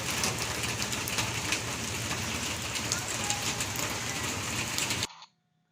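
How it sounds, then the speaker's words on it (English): Steady rain pours down in Missouri in a dense hiss with a faint murmur of voices underneath, then cuts off abruptly. "observe how it's raining in Missouri"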